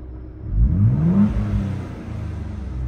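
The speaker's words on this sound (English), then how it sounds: "A little bit more blow-off noise there." A Ford Bronco Raptor in sport mode revs hard once, the engine note climbing in a rising sweep and then dropping back into a steady rumbling idle, loud and close, with no talking.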